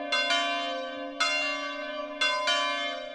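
A church bell tolls three times at steady intervals, each strike ringing out with a long, humming decay that overlaps the next; no voices.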